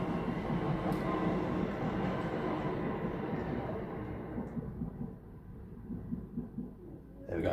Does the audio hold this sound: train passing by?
yes